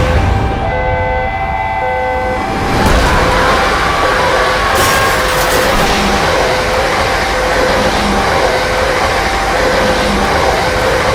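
Train rumbling through a railway crossing in an animated sound effect, a steady loud roar of wagons with a brief bell-like tone early on and a sharp clatter midway, no voices.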